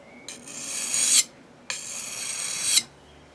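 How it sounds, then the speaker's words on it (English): Two long, close, bright rasping strokes sharpen the tip of an ESEE 6 knife blade, each swelling toward its end before a short gap. "do a little bit of work on that tip so you know that you're actually sharpening the tip as well as the rest"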